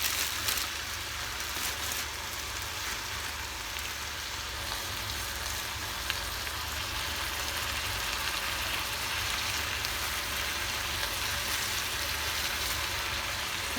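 Juices poured into a pot of cooking carnitas pork set up a steady, hissing sizzle and bubbling, even and continuous at close range with no talk.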